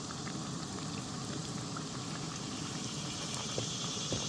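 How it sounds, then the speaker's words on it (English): Steady sizzling and crackling of beer-battered catfish frying in hot oil, constant and moderately close, with faint pops scattered throughout and no voices. "it's just like frying fish"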